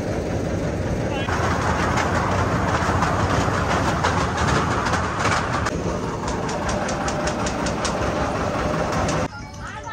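A Mumbai train rumbles steadily with a loud engine drone, faint rhythmic clacks near the end, and voices talking over it before it cuts off.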